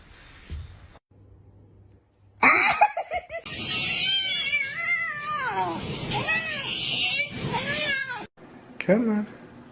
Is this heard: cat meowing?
yes